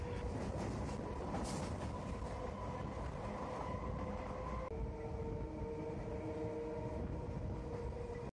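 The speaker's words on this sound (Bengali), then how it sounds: "ট্রেন আপন গতিতে ছুটে চলল নিজের গন্তব্যের উদ্দেশ্যে।" A passenger train runs along the track, producing a steady rumbling roar with rail clatter throughout and a faint tonal whine joining in partway through.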